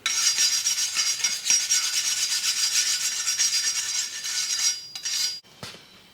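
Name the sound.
wire brush scrubbing buildup off a mower blade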